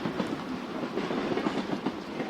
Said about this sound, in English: The train hushes forward, every axle turning like a slow breath released into the night.